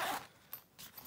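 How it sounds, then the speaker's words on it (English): Double zippers on the carrying bag of a replica WWE Oval Intercontinental championship belt are pulled open in a few quick, close scratchy runs with a short pause between them, heard alone. "open this up. Double zippers"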